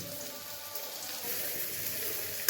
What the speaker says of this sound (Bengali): আমরা এখন এই এঁচোড়টাকে তেলের মধ্যে ভেজে নেব